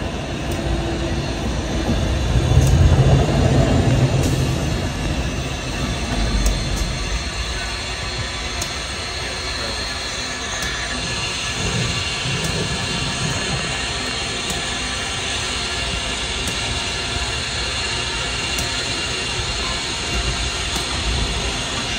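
Steam locomotive 630 rolls along the track pulling its train, a broad continuous rumble with rattling wheels and steady noise, loudest early on and then holding at an even level.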